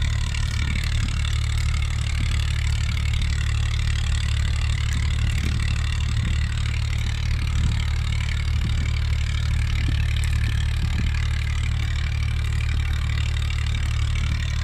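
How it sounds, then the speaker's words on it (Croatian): A tractor engine runs steadily at close range in a field during ploughing, a continuous low idle-like drone with rumbling mid tones holding at an even level throughout, with no talk. "moram da idem bliže traktoru"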